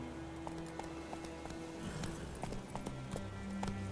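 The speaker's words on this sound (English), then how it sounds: "Geralt can always count on his horse, Roach." Roach, Geralt's horse in The Witcher 3 video game, galloping with quick rhythmic hoof clip-clops that sound fairly close over a constant ambient bed.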